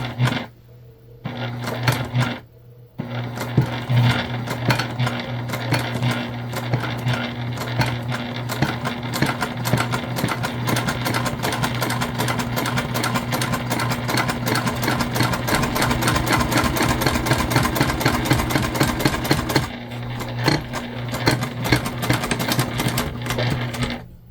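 A sewing machine stitches a candy bag in a long, steady, rapid mechanical chatter with a constant motor hum, close and loud, with a brief stop near the start and another near the end.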